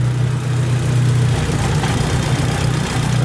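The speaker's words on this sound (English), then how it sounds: "Gonna go ahead and let it idle." A car engine with a freshly mounted rebuilt Precision turbo idles loud and steady up close, holding a constant low hum throughout with no revving.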